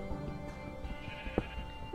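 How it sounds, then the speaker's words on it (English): A sheep bleats briefly in modded Minecraft (Tekkit Legends), a short wavering cry over a steady backdrop of soft music. "It's a freaking sheep."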